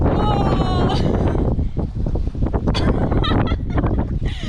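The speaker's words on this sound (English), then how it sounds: "Oh, told you it was windy." Strong gusts batter a GoPro microphone at Lake Awoonga with roaring, uneven rumbles, while a voice briefly sounds at the start.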